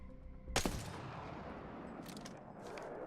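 A Longbow sniper rifle in Apex Legends fires one sharp, loud shot near the start, and its long booming tail rings out afterward, with fainter mechanical clicks trailing behind and no talking.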